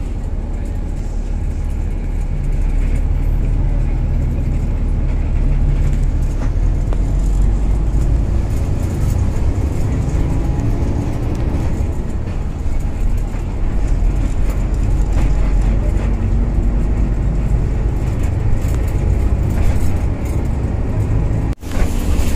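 Transjakarta bus driving on a toll road, heard from inside the cabin as a loud, steady low engine rumble and road roar that runs unbroken throughout.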